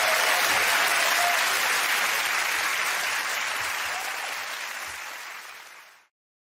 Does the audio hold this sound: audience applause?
yes